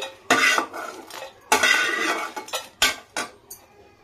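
A pan and utensil clatter sharply as dry-roasted red chillies are scooped out, giving several distinct scraping clinks in bursts, loud and close, with short silent gaps between strokes.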